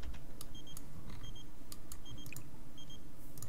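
A phone rings in The Sims 4 with faint, repeated electronic beeping tones in short paired bursts over a quiet, low background.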